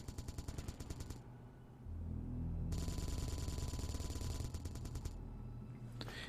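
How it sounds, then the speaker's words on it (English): Rapid Gatling gun fire in the game Space Engineers, loud bursts of mechanical rattling with a brief pause, then a sustained heavy barrage layered with a deep rumble, no talking. "those are much better firing than the rocket launchers"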